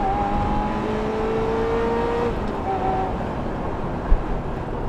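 A Ferrari F355 Spider V8 engine revs up and holds a high, whining pitch, then shifts and climbs again, loud and close, with a brief thump near the end.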